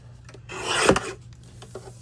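A single rasping scrape as paper edges of a handmade spiral-bound journal are trimmed, close and brief, with faint rustles around it.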